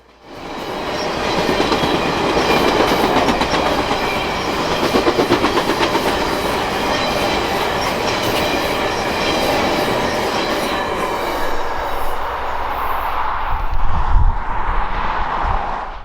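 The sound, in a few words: passenger train passing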